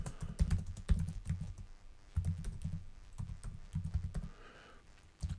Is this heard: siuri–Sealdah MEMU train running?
no